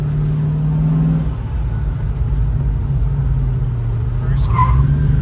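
A 1968 Mustang fitted with a Ford Explorer 5.0 V8 engine drones steadily from inside the car, a loud continuous engine note with a pitch shift as it moves through the gears, while someone talks over it.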